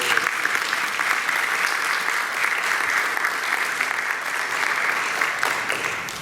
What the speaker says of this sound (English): we're just going to give them a round of applause